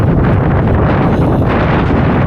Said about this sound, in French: Il vente fort.